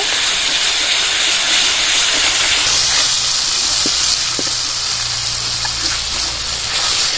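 Chicken curry with ginger paste fries in a pan, giving a loud continuous hissing sizzle with a few soft knocks of stirring partway through, with no talking.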